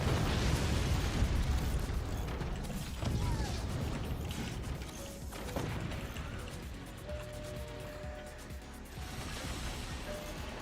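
Mortar fire in the strategy game Forts: dense, rumbling bursts and crashing impacts roll through the mix, with mechanical clatter over a constant low din of battle and no talk.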